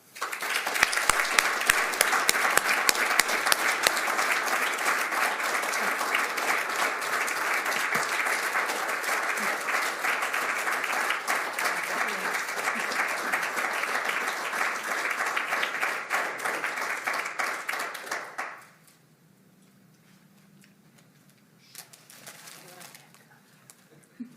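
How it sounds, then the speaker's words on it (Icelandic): Audience applause for a research fund encouragement award recipient at a research conference, a long sustained roll of clapping from a large hall that cuts off sharply, leaving quiet room noise and brief sounds. "Við gefum henni gott klapp."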